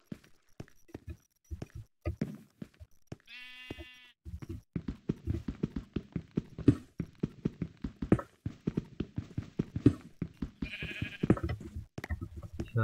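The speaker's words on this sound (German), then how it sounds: "Ich höre Schafe an der Oberfläche." Two short harmonic bleats from a sheep in Minecraft stand out over a steady run of clicking footsteps and blocky game sounds, one around the middle and another near the end.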